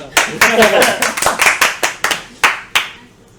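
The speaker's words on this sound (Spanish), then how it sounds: "Un aplauso." A handful of sharp, separate hand claps at an uneven pace, loud and close, with some voices mixed in underneath before the claps thin out.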